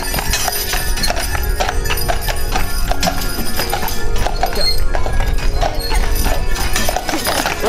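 Hooves of a pair of horses pulling a carriage on a ride through Sleepy Hollow clip-clop steadily and close, with a continuous rumble of wheels and road noise throughout.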